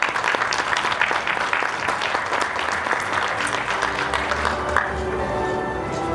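An audience at a graduation ceremony applauds the graduates with loud, sustained clapping that thins slightly toward the end, with faint crowd murmur underneath.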